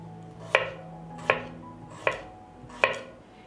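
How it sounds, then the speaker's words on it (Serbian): Knife chopping an onion and garlic cloves on a board, four evenly spaced sharp cuts, close and clear with no talking. "Iseckat ću jednu glavicu luka na šnitice. Iseckat ću i 2 čena belog luka."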